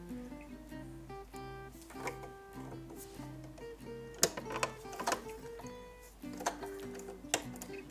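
A domestic sewing machine stitches a 4-step buttonhole with a buttonhole foot, ticking in a fast, steady mechanical rhythm with brief pauses and a few sharper clicks between passes.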